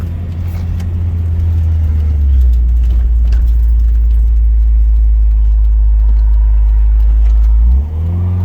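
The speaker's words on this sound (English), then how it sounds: "Oh wait, there's a car." A car engine drones loudly and steadily close by, a deep continuous rumble that swells slightly as it drives past, then drops off near the end.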